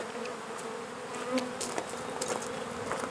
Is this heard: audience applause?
no